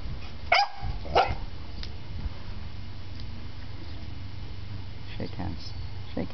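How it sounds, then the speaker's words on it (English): A Filipino Askal mixed-breed dog gives two sharp barks close by, followed by a fainter yip, while a person talks quietly over low background hum. "Okay, there's my dog."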